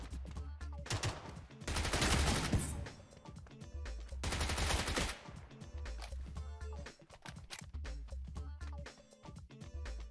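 Gunfire bursts in the mobile shooter PUBG New State, with dense loud volleys around two and five seconds and scattered shots through the rest, under occasional speech.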